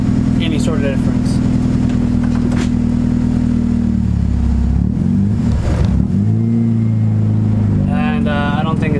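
A car fitted with a Ktuned throttle body, idle control valve enabled, drives around the block; a steady low engine drone runs loud and close throughout, with a dip and wavering pitch midway, and a voice briefly appears near the end.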